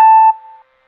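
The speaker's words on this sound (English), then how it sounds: "Why is the beep so loud?" A single loud, piercing electronic beep, a pure steady tone lasting about half a second before cutting off.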